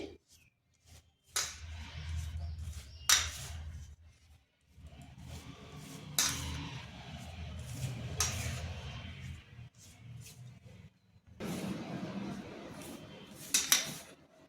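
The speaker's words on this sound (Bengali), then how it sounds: "আর দিচ্ছি দুই চামচ রিফাইন তেল এগুলো সুজির সাথে ভালোভাবে মিশিয়ে নিচ্ছি" Semolina and refined oil being rubbed together by hand in a bowl make soft, intermittent scraping and rustling, faint and close, with occasional clinks against the bowl.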